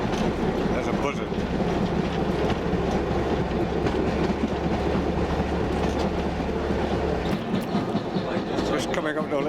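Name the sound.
narrow gauge train running on rails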